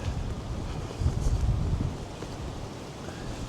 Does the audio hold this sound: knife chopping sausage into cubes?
no